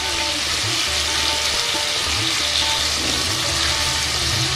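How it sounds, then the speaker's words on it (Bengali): Potato, jackfruit and prawn pieces fry in a pan for a traditional Bengali echor chingri, giving a loud, steady, continuous sizzle with a faint low rumble underneath and no talking. "আলু, এঁচোড় আর চিংড়ি মাছ এক এক করে এইভাবে অল্প সময় ধরে ভেজে একটু তুলে রাখতে হবে"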